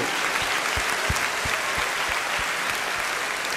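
A church congregation applauds the Lord during a revival service in Goiana, Brazil, a steady, dense wash of clapping from many hands that stays loud and even throughout, with a few sharper individual claps standing out.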